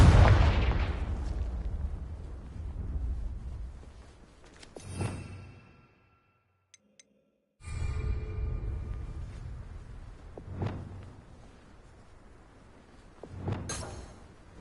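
Heavy Confringo blasting-spell explosions go off in the Hogwarts Legacy video game: a big loud boom that trails off, then after a brief silence further sharp blasts with rumbling tails.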